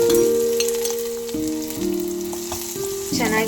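Onions frying in hot oil with cumin and mustard seeds for a North Karnataka putani chutney, a close sizzle with stirring scrapes over steady tonal music.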